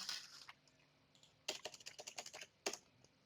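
Computer keyboard keys clatter while code is edited and cut, a quiet brief tap or two followed by a quick run of rapid clicks and one final sharp keystroke, close and alone.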